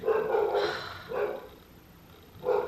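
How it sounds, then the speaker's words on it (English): A dog barks indoors, three short separate barks spaced about a second apart, moderately loud and close, with quiet gaps between them. "my dog has not stopped barking"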